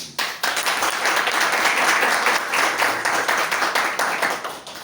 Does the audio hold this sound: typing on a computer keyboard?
no